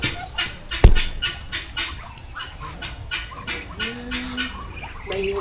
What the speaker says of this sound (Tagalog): May nakikita na tayong sisiw